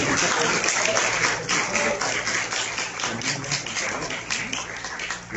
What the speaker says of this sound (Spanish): Les pido de favor darle un aplauso al doctor Jorge Galindo por su participación en este conversatorio.